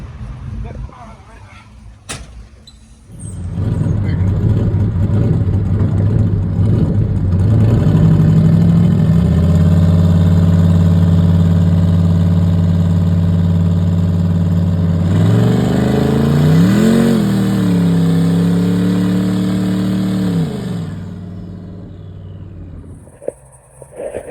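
Chevrolet S10 pickup with a cammed, nitrous 5.3 engine at a track, starting up and idling loud and close, then revving higher with a deep rumble and a second rising rev before cutting off.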